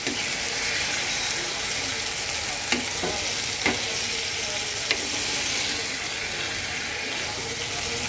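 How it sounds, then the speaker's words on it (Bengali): Spice paste of ground mustard with drumsticks frying in a pan, a steady close sizzle with a few sharp clinks of stirring, no voices. "তো আমি এখন মশলাটাকে আরেকটু জল দিলাম, জলটা দিয়ে সুন্দর মতন কষাবো"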